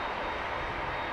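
ATR turboprop airliner at Dublin Airport, a steady droning engine rumble at a distance, brief and unbroken with no talking.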